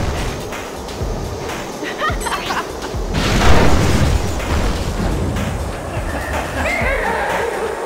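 A missile blows up in the futuristic racing game Wipeout Pure: one loud, rumbling burst that swells and then fades into a steady roar from the race.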